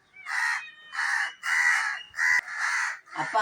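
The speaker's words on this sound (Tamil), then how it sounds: "வெளியில ஒரே காக்கா பூனை வந்திருக்கு" Crows caw outdoors near a village home, about six loud harsh calls in a steady sequence with short gaps, close by and with no talking.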